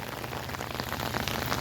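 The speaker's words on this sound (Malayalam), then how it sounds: "ഇപ്പം മഴയ്ക്ക് ഇത്തിരി ശക്തി കൂടുന്നുണ്ട്" Heavy rain pours at the Mel Palani temple, a dense, steady hiss of drops striking surfaces close by, loud and unbroken, with no voices.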